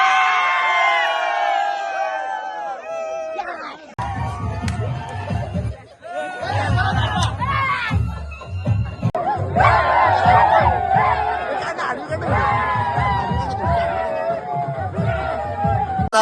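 A crowd cheers, whoops and shouts loudly at an outdoor Govinda pathak practice as a seven-tier human pyramid is formed, excited voices and chatter layered in a continuous dense roar with rising bursts.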